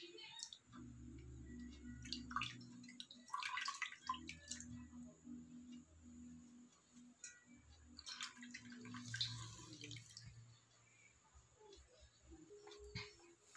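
Water-soaked sponge wiping face scrub off skin indoors, heard as soft drips, light splashes and small wet clicks, faint and close, with scattered quieter moments.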